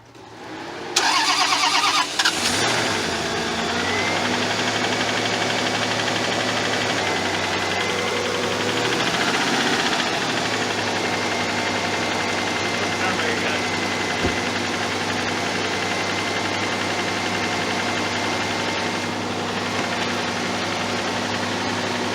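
A Toyota Camry engine cranks and catches, then settles into a steady, loud idle with a persistent mechanical rattle running underneath.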